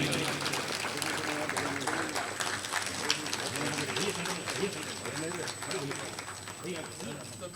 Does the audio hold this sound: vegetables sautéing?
no